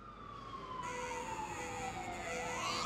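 Wailing emergency sirens in a rap song, a rising and falling tone sweeping steadily over a dense, continuous backing at moderate level, with no voices.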